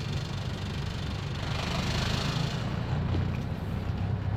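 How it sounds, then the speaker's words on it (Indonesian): A car engine in third gear hums steadily with a low, rough drone as the accelerator is eased down slowly, the sound building only slightly and staying continuous throughout. "ini gigi 3 kita akan coba bejek. Coba injek gas pelan-pelan"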